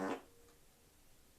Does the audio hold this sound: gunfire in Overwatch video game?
no